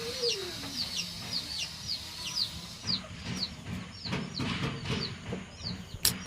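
Farm chickens, including Naked Neck chicks, cluck and peep faintly in a coop, with short high calls repeating steadily over low background noise.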